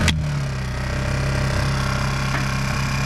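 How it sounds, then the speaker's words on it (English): A Honda EU10i inverter generator engine runs steadily while warming up, with a close, loud, even drone and a strong low hum. There is no talk. "With the engine running, we'll leave it running for about 5-10 minutes to warm the engine up."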